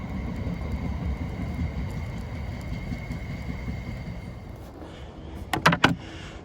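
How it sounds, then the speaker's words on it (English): A train rumbles past with a low, steady roar that fades out, heard from a canoe on the water, followed by a few sharp knocks near the end. "First train I've seen since I've been sat here for about 45 minutes"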